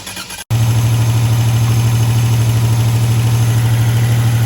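A repaired car engine, from work on a DMC DeLorean and an '87 Buick Grand National, catches after a brief pause and then settles into a loud, smooth, steady idle close by.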